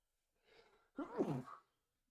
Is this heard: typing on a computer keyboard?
no